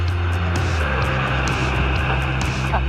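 A tractor engine works a ploughed field of heavy clay. It drones steadily and loudly the whole time, a close, unbroken mechanical hum with no pauses.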